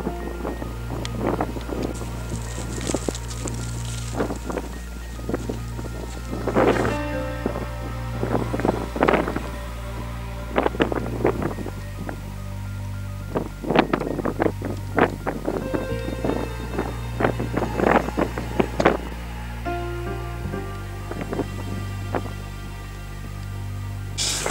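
Steady wind buffets outdoors at a winter camp, a low rumbling roar with gusty flutters and scattered rustling, continuous and fairly loud throughout.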